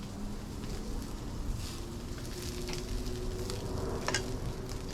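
Chopped vegetables fry in a pan for a beef stew, a steady close sizzle with occasional stirring scrapes and crackles running throughout without talk.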